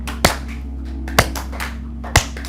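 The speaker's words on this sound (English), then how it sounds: "So clap right in front of the heart space" Three sharp, single hand claps in front of the chest during a kriya energizing practice, spaced about a second apart, each crisp and close over a quiet, steady background hum.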